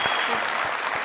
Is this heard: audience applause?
yes